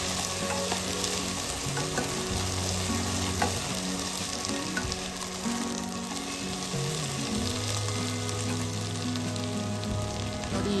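Finely chopped onions frying with cashews in hot oil, a dense, steady sizzle heard up close under soft background music, with no talk.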